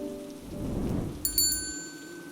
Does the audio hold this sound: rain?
yes